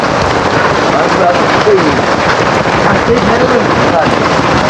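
Heavy rain pours down on an outdoor market stall, a loud dense steady hiss with gusts of wind noise, close and continuous throughout, with faint voices beneath.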